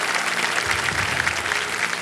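Studio audience applause on the KBC Season 16 game show set, a dense, steady wash of many hands clapping that holds at full strength for about two seconds with no voices over it.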